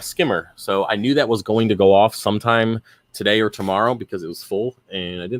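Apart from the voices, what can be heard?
None of the usual background noises is heard.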